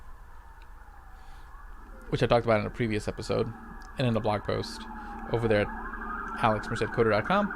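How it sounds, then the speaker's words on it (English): Emergency vehicle sirens wail along a Brooklyn street in New York City, a steady rising and falling tone running the whole time beneath a man's continuous close-up speech. "Sorry for the sirens in the background."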